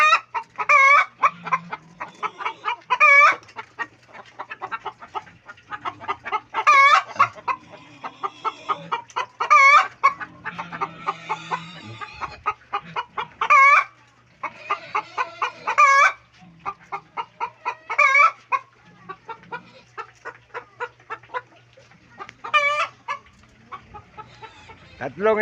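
Broiler chickens clucking on a farm, with repeated loud, close clucks and squawks in a steady rhythm over a low background hum.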